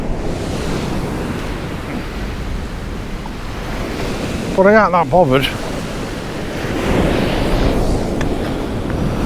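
Sea waves roll in and crash onto rocks on the East Coast shore at Kilnsea, a steady loud wash of surf throughout with wind noise, and someone briefly speaks partway through.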